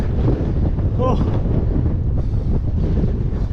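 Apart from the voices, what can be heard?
strong wind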